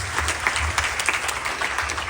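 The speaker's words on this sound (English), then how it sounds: "Give him a big round of applause." Steady, dense applause from a crowd at a Ganesh Chaturthi religious gathering, a continuous wash of many hands clapping at moderate loudness with no speech.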